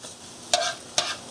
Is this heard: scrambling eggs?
yes